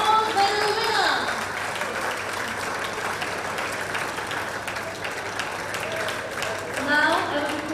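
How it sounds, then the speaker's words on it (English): A crowd applauds the men's 10m air rifle gold medal winner at an ISSF shooting World Cup ceremony in Bhopal, India, with continuous dense clapping throughout and a voice rising over it at the start and end. "please put your hands together for a round of applause for the 10-meter air rifle"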